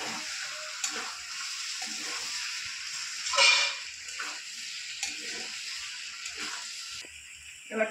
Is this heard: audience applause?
no